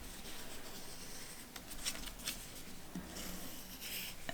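A pen tracing around a fabric pouch pattern, heard as a faint, steady rubbing scratch with a few brief, sharper strokes, close and quiet against light background noise.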